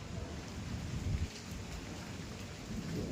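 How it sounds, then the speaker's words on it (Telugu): Steady rain with gusting wind outdoors among trees, a dense continuous wash of drops and low rumbling gusts that swell and ease over a few seconds, with no voices. "ఇప్పుడైతే వర్షం పడుతుంది, చినుకులు పడుతున్నాయి, గాలి వస్తుంది"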